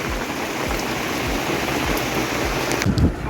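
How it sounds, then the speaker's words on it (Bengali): Steady rain pours down in a continuous, even wash of broadband hiss close by, with no voices over it. "দেখো কি বৃষ্টি পড়ছে।"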